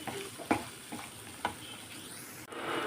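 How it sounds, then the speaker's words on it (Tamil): Small onions frying with a little salt in a pan for a prawn thokku, giving a steady low sizzle with a few brief stirring scrapes, close and fairly quiet. "வெங்காயம் ஃப்ரை பண்ணுறதுக்கு கொஞ்சமாக சால்ட்டு சேர்த்துக்கிறேன்."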